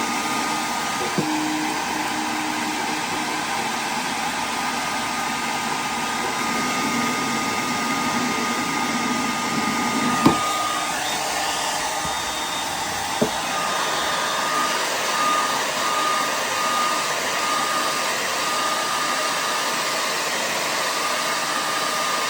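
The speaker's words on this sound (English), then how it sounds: "The hair dryer is great because it makes things hot, but it doesn't hurt the finish." A steady, loud whoosh of a hair dryer blows continuously close up into a guitar's sound hole, with a couple of faint clicks or taps partway through.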